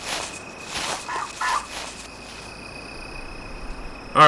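Wild turkeys gobble in a hunting video game, a few short bursts over the first second and a half against a steady cricket and insect chorus, with a faint rustle at the end.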